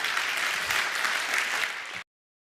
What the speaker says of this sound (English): So give him a last warm applause.